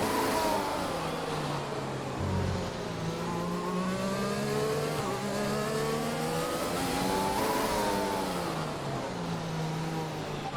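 A Formula 1 car in the F1 2020 video game revs hard and climbs through the gears, its loud, continuous engine note rising in pitch, dropping at each shift and rising again.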